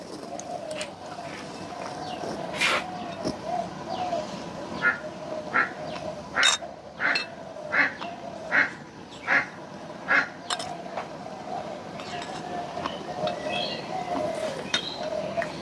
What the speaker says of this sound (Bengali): ওইদিকে হাঁস ডাকে, ওইদিকে ঘুঘু ডাকে।